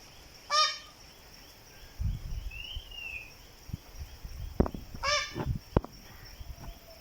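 A peacock lets out two loud, harsh, honking calls a few seconds apart, outdoors among faint insect chirring and scattered low knocks.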